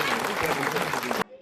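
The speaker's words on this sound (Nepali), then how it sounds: "यति भन्दै एउटा ताली बजाउँदै सुबोध विद्यालय।" An audience clapping for Subodh school in Nepal, a dense burst of applause that stops abruptly, with a voice speaking over it.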